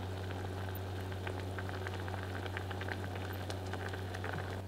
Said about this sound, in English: bring to the boil, then simmer for about 5 minutes until slightly reduced and thickened